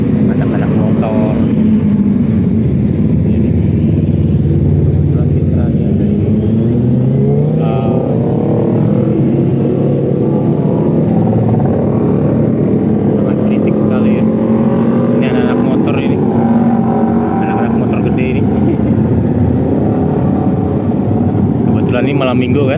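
Motorcycles ridden by a group of local bikers pass along a quiet city street in Samarinda at midnight on a Saturday night, a continuous loud engine drone rising and falling as the bikes go by, with someone talking over it.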